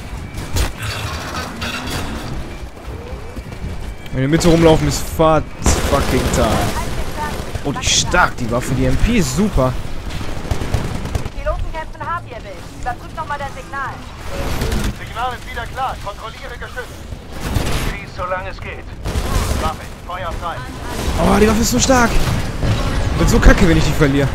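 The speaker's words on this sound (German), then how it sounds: "Alles, was man machen muss bei der Map, ist eigentlich aus dem Fenster schießen" Titanfall gunfire from a window amid a busy battle, irregular shots and mechanical clatter mixed with game noise, with a voice talking over much of it.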